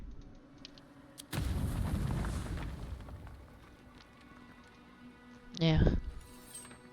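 Grenade blast in a video game: a heavy close boom followed by a long rumbling roar that slowly fades, with a second sharp burst a few seconds later.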